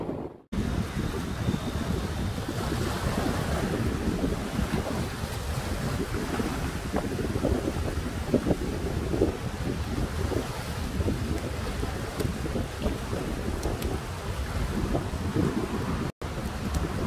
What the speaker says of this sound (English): the Lake Erie wind today, it's very insane